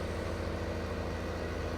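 A semi truck tractor engine runs in a steady, low, throbbing idle with a regular pulsing rhythm, close and continuous throughout the short stretch.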